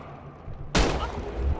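A single sharp gunshot goes off in the VR war game Medal of Honor, a sudden loud crack followed by a short echoing tail.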